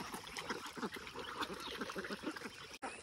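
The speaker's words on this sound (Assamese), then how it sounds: "আৰু এইফালে আছে ডাঙৰ হাঁহখিনি আৰু এইফালে হ'ল সৰু হাঁহখিনি" Ducks quack and honk in a dense, continuous chorus from a mixed flock of large and small ducks out on shallow water in a flooded farm field, loud and close throughout with no talk.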